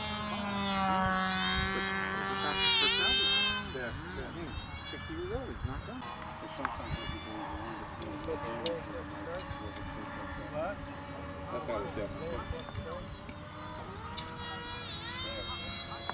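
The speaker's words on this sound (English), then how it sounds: "you can hear the RC planes in the background." Small radio-controlled model-airplane engines whine at a high pitch, rising and falling as they fly at a windy flying field, with people talking nearby.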